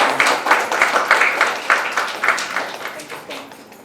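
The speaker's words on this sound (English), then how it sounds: "So I would like all of us to give one solid, resounding clap and applause." An audience breaks into solid applause at a live conversation event, a fairly close burst of many hands clapping in a dense, uneven patter that fades gradually.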